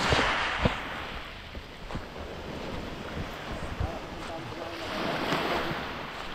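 Sea waves washing onto a beach in San Juan, Batangas in the morning, a steady rushing surf with gusty wind buffeting the microphone throughout.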